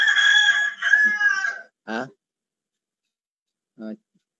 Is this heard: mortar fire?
no